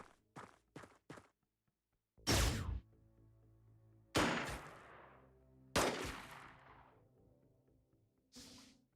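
Gunfire traded in the turn-based Xenonauts strategy game: three quick short pops, then three loud separate bangs with ringing tails, spaced about two seconds apart, and a final shot, all clean against silence.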